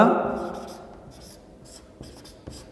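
Chalk or marker scratches on a board during a Hindi-language engineering lecture on belt drives, a few short rubbing strokes close by, following a burst of speech at the start.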